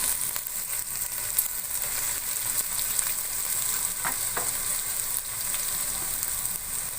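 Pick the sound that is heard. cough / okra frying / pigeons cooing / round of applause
okra frying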